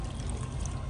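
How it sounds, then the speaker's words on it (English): A little water pours into a blender for crab sambal, a short, close, steady trickle and splash with no one talking. "Okay, just pour a little bit."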